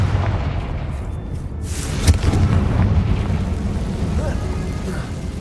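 A Confringo fire spell detonates in Hogwarts Legacy as a single booming burst about two seconds in, set against a steady rumbling game ambience.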